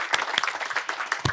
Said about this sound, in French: On applaudit très très fort pour eux.